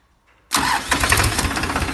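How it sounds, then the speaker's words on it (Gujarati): A tractor engine cranks and fires at once, then runs loud and steady at a rough, throbbing idle close to the listener. "ટ્રેક્ટર ચાલુ થઈ ગયું."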